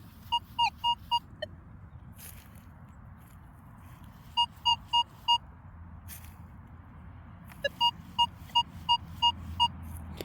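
A Minelab Manticore metal detector gives short, high beeping tones in quick clusters over a low background hum, with gaps of quiet between the bursts.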